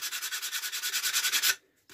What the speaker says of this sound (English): sanding down on these sides just so it's all a bit more flush